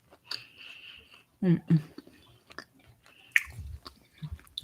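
Close, wet chewing of a chocolate-covered date filled with peanut butter: a soft bite, then a few squishy, irregular mouth movements with small clicks between pauses, and a brief appreciative murmur from the eater.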